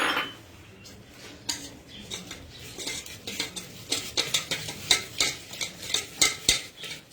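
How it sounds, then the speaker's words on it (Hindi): Dough ingredients stirred together in a bowl with a utensil, scraping and clinking strokes that grow quicker and louder into a steady rhythm, close up, with no talk. "So I'm just combining these ingredients like this"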